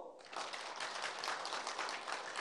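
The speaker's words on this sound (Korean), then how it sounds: "박수." A church congregation applauds during a Korean sermon, a steady dense wash of clapping from many hands that holds evenly from start to finish without pause.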